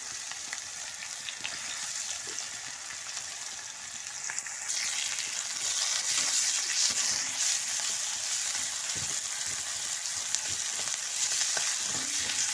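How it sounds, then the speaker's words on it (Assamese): Onions and chillies fry in hot oil with a loud, continuous sizzle that grows stronger midway, with occasional light stirring clinks. "পিঁয়াজ আৰু জলকীয়াকেইটা ভাজি ল'ম অলপমান"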